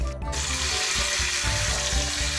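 Hot tempering of dried chillies and asafoetida pours into dry mango and amaranth-leaf dal, giving a loud, steady hiss and crackle that runs unbroken from start to finish with no talk.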